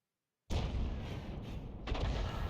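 A single heavy cannon blast from a 105 leFH18B2 self-propelled gun in a tank battle game bursts out after a silent half-second, followed by a rumbling tail and a second loud crack near the end.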